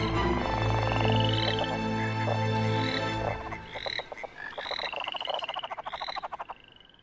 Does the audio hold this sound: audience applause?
no